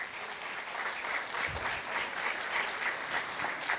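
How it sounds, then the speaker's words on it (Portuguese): A church congregation claps together in a steady, continuous wash of applause that holds at an even level throughout, with no talking heard over it. "Aplaude a Deus por isso,"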